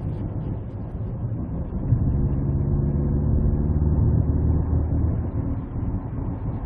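Mercedes GLE 330d diesel SUV fitted with aftermarket intake and exhaust parts, accelerating on the road with a steady low engine drone and road noise that swells slightly midway and stays continuous throughout, with no talking.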